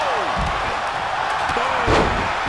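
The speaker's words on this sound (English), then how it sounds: "Oh, what a slam." A wrestler is slammed onto the ring mat during a four-way ladder match featuring Brutus Beefcake, landing in two heavy, booming thuds over a constant noisy backdrop.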